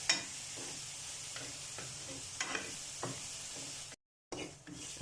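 Onions cooking down in a pan over a medium flame with no oil, giving a soft, steady sizzle with scattered stirring scrapes and a brief silent gap near the end.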